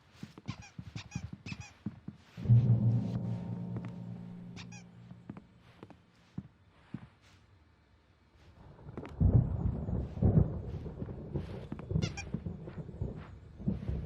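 Thunder rumbles through a stormy scene in the Xbox 360 game Alan Wake, with two heavy low rolls separated by quieter stretches and sharp clicks and knocks scattered throughout, no voices present.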